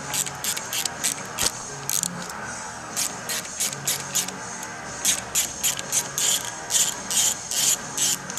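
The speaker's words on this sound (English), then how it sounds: "with a T27, you can remove the big clamps" T27 Torx driver loosening the handlebar clamp screws on a Harley-Davidson Road Glide, a close run of rapid ratcheting clicks in short bursts with brief pauses between turns.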